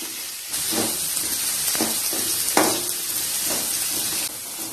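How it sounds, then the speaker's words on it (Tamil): Small onions are sautéed in a pan for a drumstick (murungakkai) stir-fry. A close, moderately loud hiss and sizzle starts a moment in and cuts off just before the end, broken by a few stirring scrapes. "எல்லாத்தையும் நல்லா வதக்கி விட்டுக்கோங்க."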